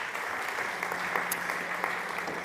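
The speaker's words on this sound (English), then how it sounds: "Okay, big applause for Alvaro." A conference audience at a startup event stage in Spain applauds a speaker, giving steady, even clapping that sounds somewhat distant in a large hall and continues without a break.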